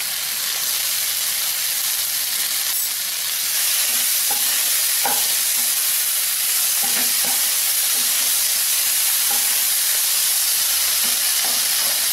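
Vegetables and tomatoes for tomato pulao cook on low heat in a pan with a loud, steady sizzling hiss, broken by occasional soft clicks from a stirring spoon.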